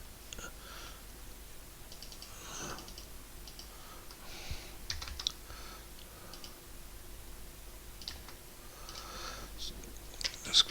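Quiet, irregular clicking of keys on a computer keyboard, typing in short bursts against a low hiss.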